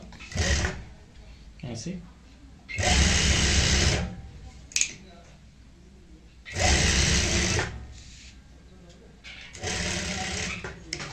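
A sewing machine stitches a pillow cover in three short, loud runs of rapid whirring, separated by pauses in which someone talks close by.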